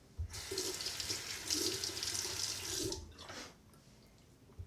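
A bathroom tap runs into a sink to wash off shave soap, a steady close rushing splash for about three seconds before cutting off, then a brief trickle.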